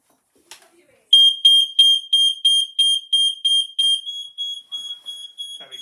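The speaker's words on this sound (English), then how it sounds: "Smoke alarm's done." A household smoke alarm under test sounds a loud, shrill, steady beeping, a regular series of about a dozen piercing tones in a quiet room, preceded by a faint click as the button is pressed.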